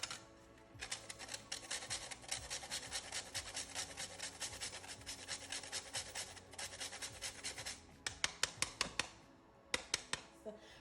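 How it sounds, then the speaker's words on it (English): Nutmeg grated on a hand grater over peanut porridge, a rapid rhythmic rasping of quick strokes close by, continuous at first, then breaking into a few separate scrapes near the end. "So I'm gonna grate it in it. About a teaspoon of nutmeg you're gonna need."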